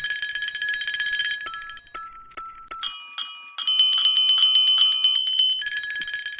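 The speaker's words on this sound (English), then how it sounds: "Every bell in the house must be ringing." Many bells ring throughout a house at once, a bright jangling clamour of overlapping chimes and sharp repeated strikes that thins briefly, then swells back to continuous ringing with no talk.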